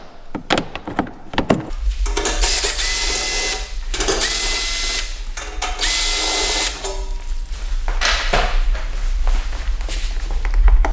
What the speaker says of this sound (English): we're going to use our ratchet and a socket, and we're going to remove that